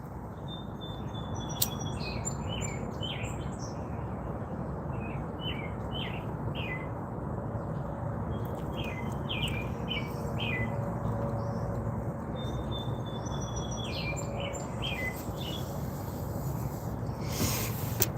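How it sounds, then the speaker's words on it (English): An American robin chatters and chirps outdoors in repeated bursts of short, bright calls, fairly near, over a steady low rumble of wind or background noise. "The bird making all the chatter is a robin."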